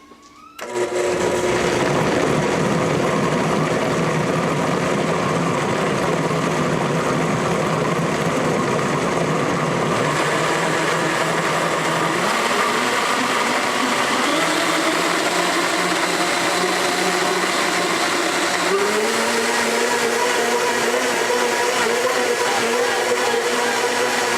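A Blendtec blender mixes strawberry freezer jam at a low setting, its motor whirring loud and close for over twenty seconds. The pitch steps upward a couple of times as it runs, and no one speaks.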